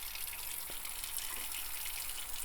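Hot water pours steadily from a faucet in a home supplied by a well, a constant close hiss and gush of running water with no pauses, alone and without talk.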